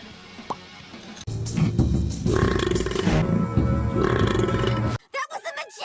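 Cartoon female character letting out a long, loud burp of several seconds, with a rough, gurgling, voiced quality, followed by brief fragments of other sounds.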